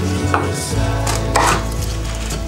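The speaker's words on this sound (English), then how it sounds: "I'm gonna Slice my pineapple." A knife slicing through a pineapple on a board, giving loud, close, continuous cutting and scraping with a couple of stronger strokes, no voices present.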